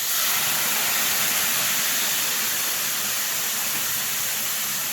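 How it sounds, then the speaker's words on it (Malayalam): Vinegar poured into a hot pan of date and garlic pickle mixture sets off a loud, steady sizzling hiss that holds evenly throughout. "അതിനുശേഷം നമുക്ക് ഇതിലേക്ക് സുർക്ക ഒഴിച്ച് കൊടുക്കാം"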